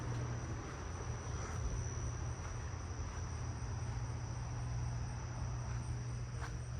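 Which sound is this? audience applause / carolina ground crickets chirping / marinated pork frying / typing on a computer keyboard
carolina ground crickets chirping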